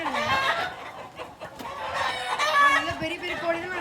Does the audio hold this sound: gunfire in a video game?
no